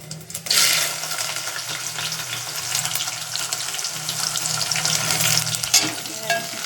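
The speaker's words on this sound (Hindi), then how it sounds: "थोड़ा सा गोल्डन फ्राई करेंगे" Onions drop into a pan with whole spices and fry in a steady, loud sizzling hiss. A burst of crackle opens it, and the sizzle rises and falls slightly as the onions are stirred. No one speaks.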